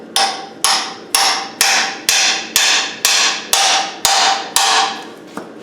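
A hammer drives a seal fitting tool with an aluminium washer onto a Land Rover 200Tdi crankshaft rear seal: ten loud, evenly spaced metallic blows in quick succession, close and alone.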